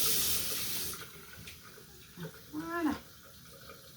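Tap water runs into a sink to rinse hands during a home hand-care routine, a steady hiss fading out after about a second, followed by soft handling sounds and a brief spoken word.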